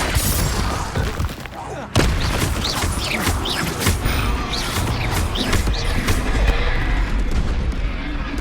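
Explosive Confringo spell blasts and other spellcasting in the video game Hogwarts Legacy, a run of loud booming impacts and crashes that repeat every second or so, with combat noise filling the gaps.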